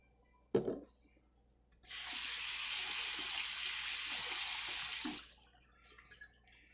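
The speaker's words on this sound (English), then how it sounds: "Okay, now a little bit of water." Water running from a kitchen tap into chocolate cake batter: a single soft knock first, then a steady hiss of flowing water for about three seconds that cuts off abruptly, leaving quiet room tone.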